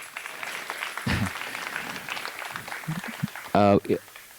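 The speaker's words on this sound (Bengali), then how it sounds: "সানন্দার জন্য বড় হাততালি" Audience applause fills a hall at a dance performance honoring a choreographer, a dense patter of clapping that swells and fades, with voices and a short loud cheer near the end.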